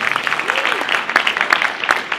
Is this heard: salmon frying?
no